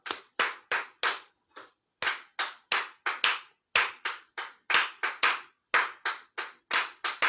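In a rhythm workshop, one person claps a pattern of sharp, close hand claps in short bursts separated by brief gaps, loud and alone with no voices.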